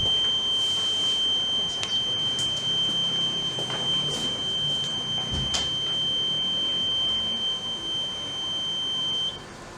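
A reconditioned smoke detector head sounds its alarm during a smoke gas test: a steady, high, piercing electronic tone that holds for about ten seconds over faint room noise, with a few short clicks and bleeps around it.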